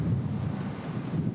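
Wind gusts steadily across an outdoor golf course during a tournament round in Jeddah, making a continuous low, rumbling buffet on the microphone with no talk.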